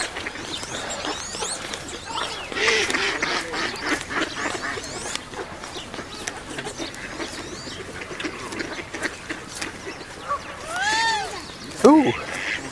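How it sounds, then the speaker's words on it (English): Many ducks gathered in one place, with scattered quacks over steady outdoor background noise. A few louder, nearby quacks stand out toward the end, and people can be heard talking throughout. "there are very, very many ducks here"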